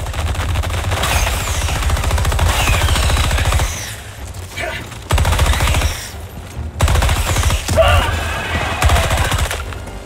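Automatic weapon fire from the sci-fi shooter game Helldivers 2: loud, sustained bursts of rapid gunfire with two brief pauses, close and dense throughout.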